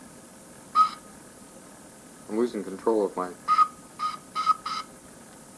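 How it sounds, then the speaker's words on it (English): A small whistle is blown in a series of short, shrill toots, several spaced out in quick succession, with someone talking between the blasts. "Oh, my little whistle's breaking."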